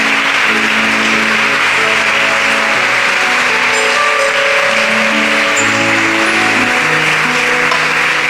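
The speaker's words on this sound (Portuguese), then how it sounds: "dê um aplauso bem forte ao Senhor Jesus" Congregation applauding loudly at a church service during a prophetic week gathering, a dense wash of clapping over sustained musical tones from keyboard or organ, continuous throughout.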